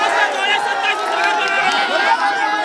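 A large crowd at a political rally creates a dense, loud wash of overlapping voices and chatter that continues without a break.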